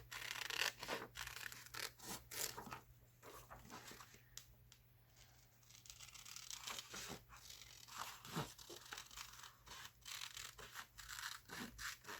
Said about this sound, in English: Let's see what happens if we just start by cutting out the face.